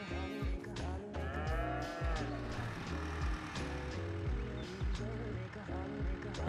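Cows mooing in the farming video game Farming Simulator 22, with sustained lowing calls layered over a steady, busy background of in-game sounds.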